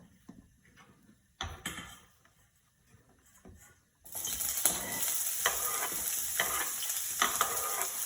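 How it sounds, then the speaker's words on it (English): Diced onions are scraped into a hot pan and burst into a loud, steady sizzle after a few scraping knocks, crackling continuously with occasional stirring taps. "I'm actually going to bring the pan to the onions and scrape them in. This is going to sizzle"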